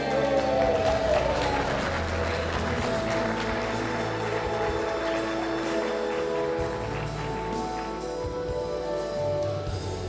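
An audience applauds at the closing ceremony of a geothermal congress, a continuous wash of clapping from a large crowd that stays steady and fairly loud throughout, layered over music and general hall noise.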